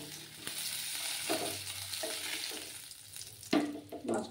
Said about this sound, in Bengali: আর একটু ভাজতে হবে মাছগুলোকে।